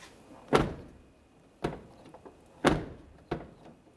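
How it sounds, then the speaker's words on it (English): Exterior doors on a 2006-2010 Hummer H3 slam shut four times at roughly even intervals, each one a sharp, solid thunk that dies away quickly, close by in a quiet setting. "you want to go ahead and shut that door and test it out"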